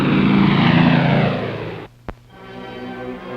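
Propeller aircraft engines of the Berlin airlift drone loudly and close, then fade out abruptly, followed by a sharp click and a quieter lingering hum.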